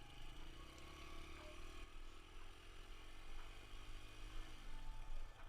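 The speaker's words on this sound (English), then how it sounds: "And right now he's shifting into second gear, and he's shifting into third." Dirt bike engine revving steadily as the rider shifts up through the gears, a continuous mid-range motor drone with rising pitch sweeps and slight changes in tone at each shift, growing somewhat louder toward the end.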